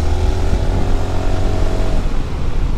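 A Honda ADV 350 scooter engine revs nearby with a loud, continuous throaty purr that stays steady and strong throughout, with no talk over it.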